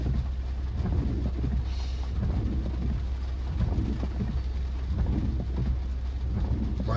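Steady rain on a car while driving through Olympia Heights, Florida neighborhoods on a rainy morning, a constant hiss and patter over low road and engine rumble, with no voices.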